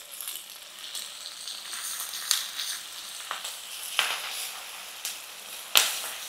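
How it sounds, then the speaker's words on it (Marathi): Chopped onion and bell pepper are stir-fried in a pan over a high flame, making a steady crackling sizzle with several sharp scraping and tossing clicks spread throughout, close and moderately loud. "फक्त हे कांदा आणि भोपळी मिरची ना जराशी परतवून घ्यायची"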